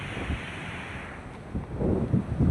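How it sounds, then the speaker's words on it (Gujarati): Rough sea waves break against rocks on a stormy coast as a low, surging roar that swells and crashes again toward the end, mixed with wind buffeting the microphone, and no one speaks. "કેટલું મસ્ત મોજો ફૂટે છે."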